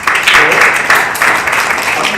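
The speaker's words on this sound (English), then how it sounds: "please clap." An audience at a Westminster report launch breaks into applause, a dense, loud burst of many hands clapping together and carrying on steadily with small surges.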